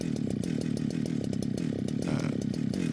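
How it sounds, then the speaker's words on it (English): A Holzforma 395 chainsaw on an Alaskan chainsaw mill runs close and loud, milling a Texas live oak log steadily with a fast, pulsing rhythm and no pauses. "I'm going to show you how I mill up this oak log with my chainsaw"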